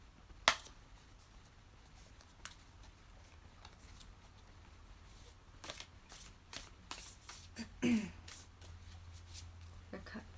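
A deck of tarot cards is shuffled by hand in quiet, irregular bursts of riffling and sliding, with a sharp tap near the start and a slightly louder flurry toward the end.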